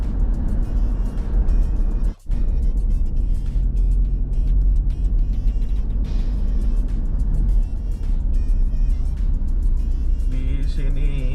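Road traffic on a highway trip from Banjarbaru to Balikpapan, including trucks hauling heavy equipment, rumbles steadily as a constant engine drone heard from inside a moving vehicle, with a brief dropout early on.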